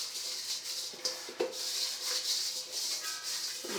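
A hand rubs grease around a mixing bowl before challah dough goes in, giving soft, close, uneven swishing strokes with a couple of brief knocks against the bowl, no talking.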